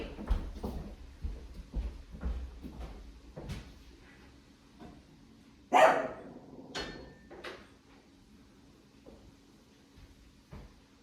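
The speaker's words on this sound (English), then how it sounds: "Nisi, why are you barking?" A dog barks repeatedly in short bursts, fairly close, mixed with a loud bang like a cupboard or door closing midway.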